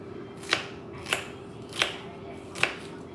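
Knife chopping onions on a board, four sharp separate cuts spaced evenly about half a second apart over a low background hum.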